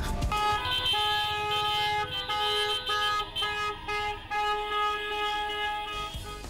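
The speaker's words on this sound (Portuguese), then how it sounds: "E se você acredita, é só buzinar." Several car horns honk together in a loud, sustained chorus of overlapping tones at a street youth event, with traffic rumble beneath.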